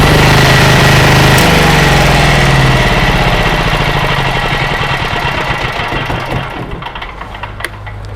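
A 5 kW diesel generator engine runs loud and steady nearby, its rough mechanical drone gradually easing and thinning toward the end as if winding down.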